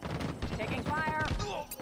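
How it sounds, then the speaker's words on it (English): Gunfire in Halo Infinite multiplayer during a capture-the-flag match: several quick shots and blasts mixed with game effects and tones, with a game voice speaking. "Taking fire."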